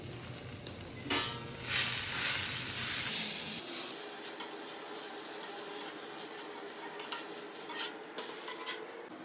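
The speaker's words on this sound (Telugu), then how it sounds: "ఇప్పుడు గుడ్డు దోశ వేస్తున్నాను." Egg dosa cooking on a hot pan, a close crackling sizzle with scraping and light utensil clinks, rising after a brief louder clatter near the start; no voices.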